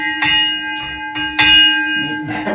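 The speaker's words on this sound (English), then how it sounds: "If you've been to Japanese gardens or Buddhist temples, that's a familiar sounding bell." A Japanese temple-style bell in a small sound meditation studio is struck several times, each bright metallic hit ringing out with a sustained shimmering tone that overlaps the next strike.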